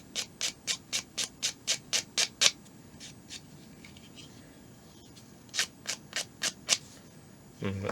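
A small part of a model of the Japanese battleship Yamato is sanded by hand, a quick run of about ten rhythmic rasping strokes, a pause, then five more, close and fairly quiet.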